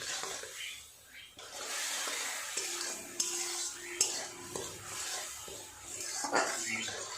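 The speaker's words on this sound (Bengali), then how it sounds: "অল্প একটুখানি নেড়ে চেড়ে কষিয়ে নেব" A spoon scrapes and stirs mustard spice paste frying in oil in a pan. The quiet sizzle runs under irregular metallic scrapes and clinks, heard up close.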